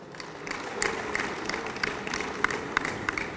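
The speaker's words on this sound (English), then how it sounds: "Give him a round of applause." An audience claps at an awards night as the chairman of the evening is called up, with scattered, uneven claps and crowd noise over about three seconds at a moderate distance and no talk.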